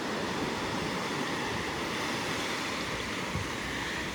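Heavy surf breaks on a clean beach at a Punta Cana resort. The roar is steady and dense, with no clear gaps and no voices.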